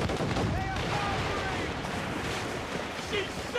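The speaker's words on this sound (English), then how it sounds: "They are firing!" Naval cannon fire from sailing ships in Assassin's Creed Rogue, a steady rumbling barrage of overlapping booms and blasts with faint voices mixed into the battle din.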